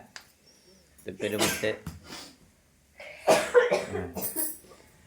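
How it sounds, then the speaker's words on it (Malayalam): A person coughs in two close, harsh bouts at home during Onam festivities, each a cluster of several rough bursts separated by a brief quiet gap. "ചുമ വരണ്ട"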